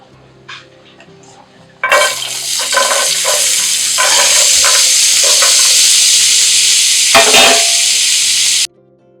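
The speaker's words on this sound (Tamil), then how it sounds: "ஸ்லோ ஃப்ளேம்லேயே நல்லா பொரிங்க." Carrots and turmeric hit hot oil over a slow flame and set off a loud, sustained sizzle. Spoon stirs and clinks sound against the pan, a few quiet taps come first, and the sizzle stops abruptly at the end.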